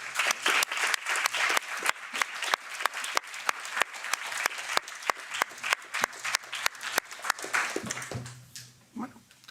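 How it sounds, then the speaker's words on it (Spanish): A small audience applauds at the close of a talk, with sharp, distinct, fairly regular claps that ring out close by before thinning and trailing off in the last seconds. "un aplauso"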